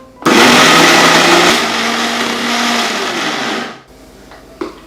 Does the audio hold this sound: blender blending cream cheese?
yes